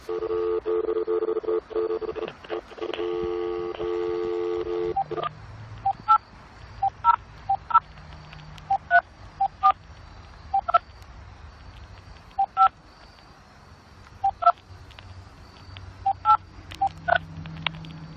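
Telephone keypad tones beep in quick bursts after a short ringing tone, heard over speakerphone with a quiet hiss between presses.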